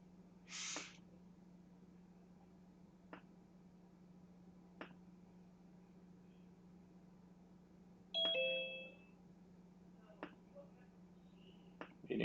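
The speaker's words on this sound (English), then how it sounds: "Meeting settings, turn off the doorbell." Zoom meeting doorbell chime sounds once as a brief two-tone ding, clear over a steady low hum, with faint ticks and clicks scattered around it.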